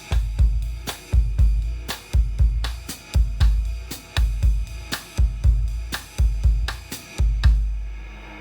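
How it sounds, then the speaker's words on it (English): A drum kit plays a bossa nova groove at a softer dynamic level, with lighter, evenly spaced strokes in a steady repeating rhythm that fades out at the end, with no talking. "if I was to actually play bossa nova with an appropriate dynamic level for the style"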